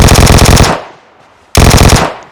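Rapid automatic fire from a Vector submachine gun in PUBG Mobile, two loud sustained bursts of closely spaced shots separated by a short pause.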